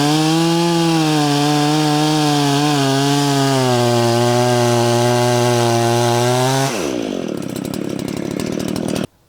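A chainsaw cuts through a round of pine, loud and close, its engine holding a steady pitch under load. Near the end the note drops sharply as the chain breaks through, and the engine then runs on alone.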